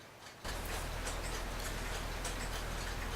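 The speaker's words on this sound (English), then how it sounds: "So I have it there ticking away." A Dutch Friesian tail wall clock in need of new bushings ticks steadily and close by. The regular beat starts abruptly and runs on alone under a constant hiss.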